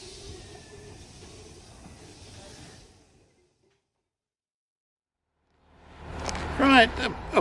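A diesel locomotive runs at a railway station, giving a steady broadband rumble that cuts off into silence, before a person starts talking close by.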